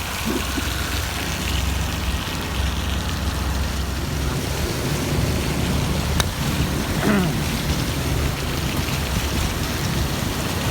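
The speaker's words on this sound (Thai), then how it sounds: "สภาพอากาศตอนนี้ก็ฝนตก" Steady, heavy rain falls outdoors during a rainy-day Thai grilled pork (mookata) meal, making a dense, even hiss throughout with an occasional faint clink.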